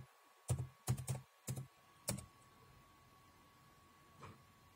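A few keys are struck on a computer keyboard while entering a Windows boot repair command, giving several soft clustered clacks early on and one faint final tap, near and quiet, with no talk.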